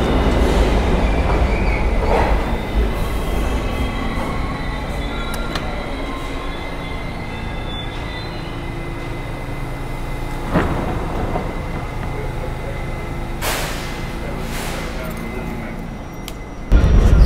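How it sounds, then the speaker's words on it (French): A subway train bound for Coney Island rumbles steadily through a station, with wheel noise, faint squeals and a few clanks, plus murmuring people in the background. "Ce métro va en direction de Coney Island."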